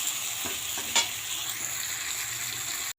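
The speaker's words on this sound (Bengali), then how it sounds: "এখন আমি আলুটা ভালো করে ভেজে নেব" Potatoes with turmeric powder frying in a pan for a Bengali katla fish and potato curry, with steady sizzling and a few scraping stirs of a spatula, close and continuous, with no talk.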